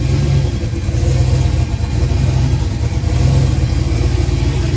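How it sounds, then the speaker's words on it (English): A methanol-fueled turbocharged LS engine in a fourth-generation F-body car, running cold, with a loud, close, choppy rumble that pulses through repeated revs and no talk over it. "Best starting methanol car I've ever seen."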